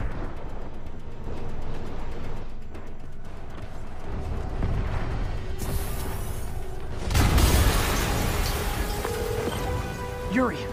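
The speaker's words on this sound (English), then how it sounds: "an explosion just..." Explosion in the Marvel's Spider-Man video game on PS4: a sudden loud broadband blast about seven seconds in that rumbles and decays, set against a busy game soundtrack and ambient noise, with game-character voices heard around it.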